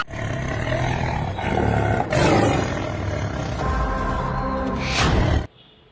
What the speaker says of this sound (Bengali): শুনতে পাচ্ছে চিতাবাঘের গর্জন করছে